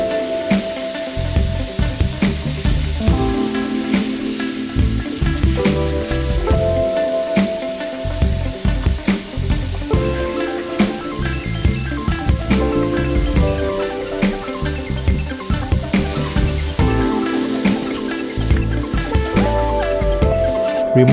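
Prawns fry in a cup of hot oil in a wok over high heat, giving a loud, continuous sizzle and hiss with occasional stirring clinks throughout.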